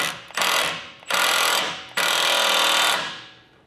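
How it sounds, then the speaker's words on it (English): An impact wrench tightening recovery point bolts into a hybrid bumper on a 2022+ Toyota Tundra: three loud, close bursts of rattling hammering, short at first and then a longer run, with no talk. "I'm gonna go ahead and just hit it with the impact just a little bit to get it started"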